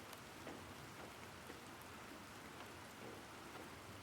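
Soft, steady rainfall from a video game patters faintly and continuously, a quiet hiss with light scattered drops and no voices.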